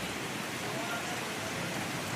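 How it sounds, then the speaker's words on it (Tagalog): Heavy rain pours steadily in Alabat, Quezon, a dense, unbroken hiss with no pauses, close and loud throughout. "Lakas pa ang ulan."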